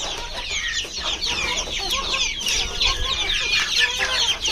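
Desi chickens clucking steadily alongside a rooster at feeding time in a farmyard, a dense, continuous flock chatter of overlapping clucks and calls, close and fairly loud with no talk.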